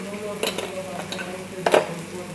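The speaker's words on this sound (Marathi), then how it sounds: "हलवून घ्यायचं आहे चांगलं फ्राय करायचं" A spoon scrapes and stirs peas and potatoes frying in a pan. Soft scrapes and clinks sit over a low background sizzle.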